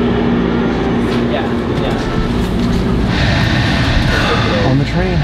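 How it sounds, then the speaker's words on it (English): Inside a moving passenger train, a constant rumbling roar fills the cabin with faint rhythmic rail clatter, while people talk over the noise. "Now we're on this train"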